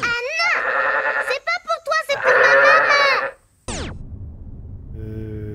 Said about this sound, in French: Ah bah si, c'est une chèvre.